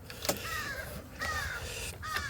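A crow cawing outdoors in three rough, harsh calls spaced about a second apart, moderately close over steady background noise.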